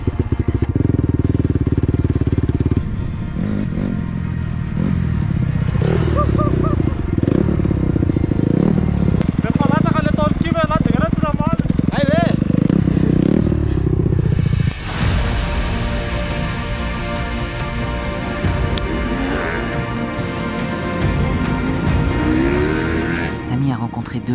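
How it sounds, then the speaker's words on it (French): A motorcycle heading toward a neighbouring mountain rumbles loudly and steadily, close by, while music and other voices play over the engine noise for most of the stretch. "Samy se prépare à enfourcher sa moto pour rejoindre la montagne voisine"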